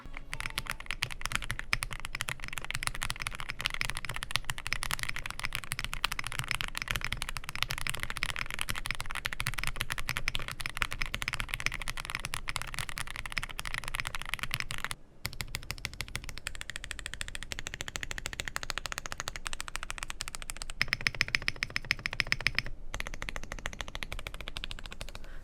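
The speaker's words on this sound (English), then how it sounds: "It sounds like a foamy keyboard if I do say so myself." Fast continuous typing on a Zoom65 EE V2 keyboard with PBT keycaps, a dense, close, foamy clatter of keystrokes with two brief gaps.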